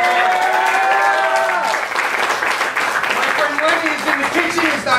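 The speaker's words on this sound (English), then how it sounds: "Seriously, how about a round of applause for Ellen?" Restaurant crowd applauding with clapping and some cheering, a full steady roar of hands while voices call and talk over it throughout.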